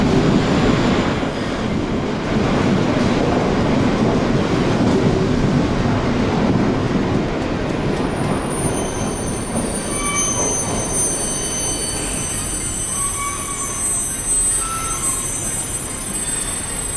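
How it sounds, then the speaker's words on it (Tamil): A train crosses the new Pamban rail bridge at about 80 km/h on a trial run, a steady loud roar of wheels on track with squealing tones rising toward the end, no voices. "80 கிலோமீட்டர் வேகத்தில் ரயிலை இயக்கிய காட்சிகளை வெளியிட்டது தெற்கு ரயில்வே"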